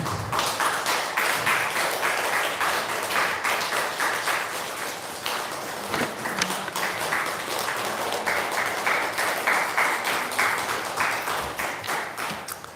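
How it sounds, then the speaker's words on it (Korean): A church congregation at a Sunday service claps warmly for the children, a dense, steady wash of many hands that carries on without pause for over twelve seconds. "여러분들 우리 어린이들을 격려하는 마음으로 따뜻하게 박수해 주시기 바랍니다"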